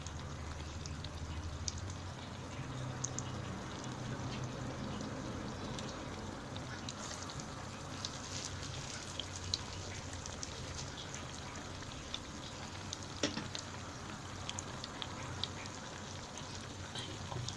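Falafel herb mixture fries in hot oil with a steady bubbling sizzle, fine crackles and occasional pops running evenly throughout.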